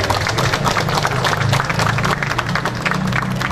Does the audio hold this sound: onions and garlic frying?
no